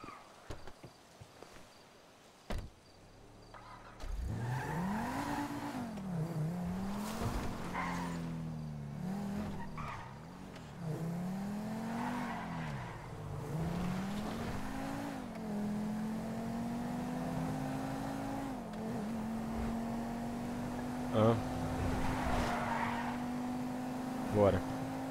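A car driven in the video game GTA V, its engine revving up and down through repeated rises and drops, then settling into a steady climbing drone, with tire squeals and occasional thuds, loud and close.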